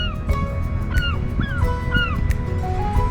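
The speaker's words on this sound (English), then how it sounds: "some seagulls chirping in the background" Seagulls call repeatedly by the sea on the Victoria waterfront, Vancouver Island, their short rising and falling cries carrying over a steady breezy wash of light waves and distant ambient noise.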